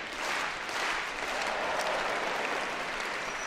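Crowd at a Crufts 2013 gundog display in a large indoor arena claps continuously, a broad, even roar of many hands sustained for several seconds at moderate distance.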